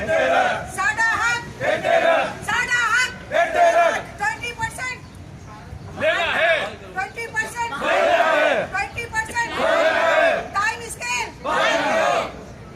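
Teachers protesting over time-scale pay chant slogans in loud, rhythmic bursts from a crowd, call-and-response phrases repeating with short pauses between them.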